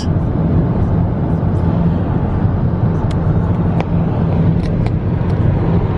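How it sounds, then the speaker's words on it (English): A car on the road at daybreak heard from inside, a loud steady low engine and tyre rumble that carries on evenly throughout. "My Richard is still driving"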